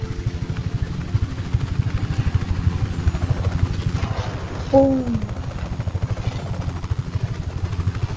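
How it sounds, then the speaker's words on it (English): A tractor engine in Just Cause 3 rumbles steadily and close, with a deep pulsing drone throughout and a brief voice exclaiming over it. "Rico, That's a tractor."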